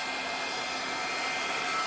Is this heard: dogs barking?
no